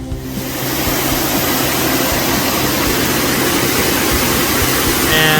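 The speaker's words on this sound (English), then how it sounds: "And here is the top part of this pretty amazing waterfall they have set up here." Loud steady rush of a park waterfall in a downtown park, continuous broadband splashing and roar filling the scene, close and unbroken.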